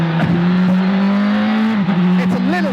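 A Praga R1 prototype race car on a track, its engine holding a loud, steady buzzing note close by, then dipping and rising again near the end as the revs change.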